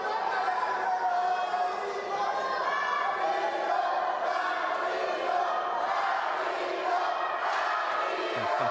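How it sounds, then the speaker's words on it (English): A wrestling event crowd, including kids and girls, cheers and screams steadily throughout, a dense continuous roar of voices with chatter mixed in at an even, loud level. "Kids cheering for him too."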